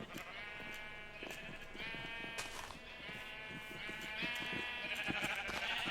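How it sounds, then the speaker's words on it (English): Sheep in the Minecraft video game bleat repeatedly, their nasal cries overlapping in a steady chorus that runs throughout and grows slightly louder toward the end. "let's check on the sheep"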